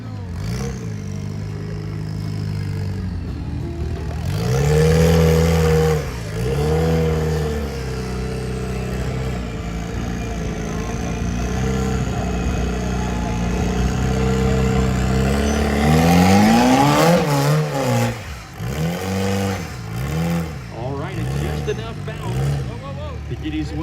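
A rock racing car on a WERock Grand Nationals course in Farmington, New Mexico, its engine revving hard in repeated rising and falling surges, loud and close, while an announcer talks over it.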